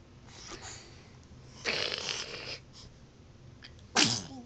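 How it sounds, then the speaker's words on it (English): Close, soft sneezes from a small child, with a couple of brief bursts separated by quiet room noise. "Yes, we gotta sneeze."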